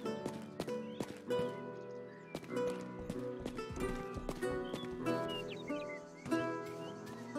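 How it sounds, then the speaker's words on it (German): Steady clip-clop of horse hooves in the video game Rustler at a walking rhythm over a faint musical background, with occasional soft thuds; no talking. "Ah, hier haben wir ein Pferd."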